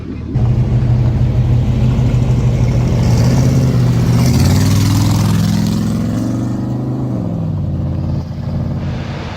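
A 1954 Chevy car engine rumbles steadily while driving through snow, a loud close low drone that rises in pitch midway as it accelerates, then settles back.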